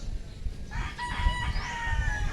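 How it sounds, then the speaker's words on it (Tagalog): A rooster on a farm crows a single drawn-out cock-a-doodle-doo, moderately close, over a low background rumble of outdoor noise. "Oh, tingnan niyo guys yung manok ha."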